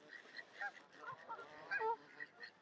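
Ducks and geese on a park pond crowd toward someone feeding them, honking and calling in repeated close bursts with faint bits of talk in the background.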